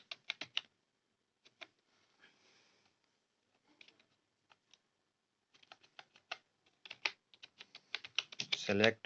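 Short bursts of typing on a computer keyboard while a command is entered at a Windows disk-setup prompt, quiet clicks scattered in groups with silent gaps and denser keystrokes near the end.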